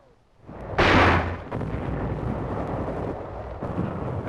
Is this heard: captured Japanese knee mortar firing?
yes